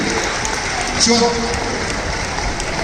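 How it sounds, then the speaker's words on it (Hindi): A crowd applauds an honoree at a Jain pichchhika change ceremony in Indore. The clapping is a dense, even wash from start to end, with a voice faintly present beneath it. "तालियां प्रदीप जी के लिए।"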